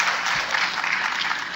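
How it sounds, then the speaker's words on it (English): Brief burst of audience applause after a healthcare training demonstration on Ebola preparedness, dense close clapping from a small crowd that holds steady throughout. "give her a big round of applause"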